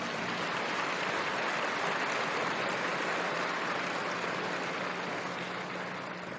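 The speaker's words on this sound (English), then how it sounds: "Give them a lot of applause," Sustained applause from a large audience at a shareholders' annual meeting, a steady dense wash of clapping that runs evenly through the whole stretch and eases slightly at the end.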